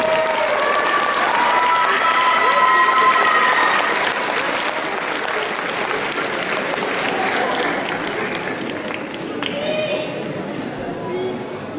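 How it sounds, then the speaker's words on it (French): Audience applause at a cosplay costume parade, a dense crowd clapping loudly and steadily throughout with some whistles and cheers mixed in, easing slightly toward the end. "Qu'un tonnerre d'applaudissements, s'il vous plaît"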